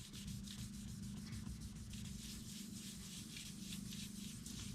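Sanding a dirt nib out of car paint, a steady close-up rhythmic rubbing and scratching of abrasive on the painted panel, continuous back-and-forth strokes with no talking.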